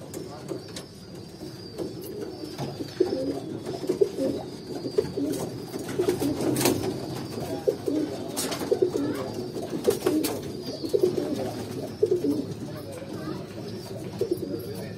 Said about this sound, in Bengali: এখানে অল্প কিছু সংখ্যক মাদি কবুতর আছে।